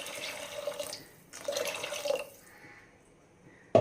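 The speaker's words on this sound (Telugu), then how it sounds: "ఇందులోకి ఒక గ్లాస్ వరకు వాటర్ యాడ్ చేసుకుందాం." A glass of water is poured into a curry frying in a pan. Two short splashing pours sound close by with a pause between them, then a faint trickle and a sharp knock at the end.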